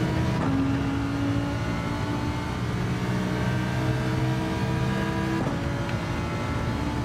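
A race car engine in Gran Turismo 7 drones steadily at high revs for several seconds, its pitch shifting with two brief gear-change breaks, alone with no talk.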